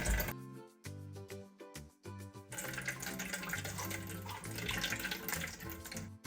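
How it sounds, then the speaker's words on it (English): Water drained from blended cucumber trickles and splashes steadily through a sieve into a bowl, with a thin musical tone running underneath and a louder, fuller flow in the latter part. "sieve out the water from the blended cucumber"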